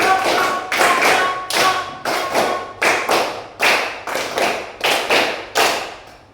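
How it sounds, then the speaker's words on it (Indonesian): A group claps in unison as an ice-breaker, a steady, even series of about a dozen sharp, loud hand claps close by with brief gaps between them. "Tepuk 3."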